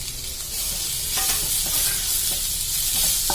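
Chopped tomato and onion sauté in a pan for a prawn coconut roast, with a steady close sizzle of frying and occasional stirring scrapes, no voices over it.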